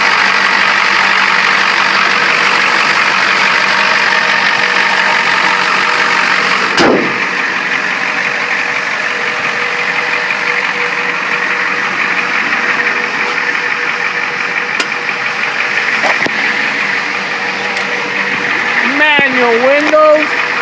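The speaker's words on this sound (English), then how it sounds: "This is a Ford Super Duty diesel. You see it cranks up." A 1991 Ford F-450 Super Duty diesel chassis cab idles steadily and nearby with a droning, even engine note. A brief clunk sounds partway through, and a voice speaks over it.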